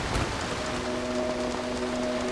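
Steady heavy rain in the video game Dying Light: The Beast hisses continuously, with a faint sustained tone running underneath.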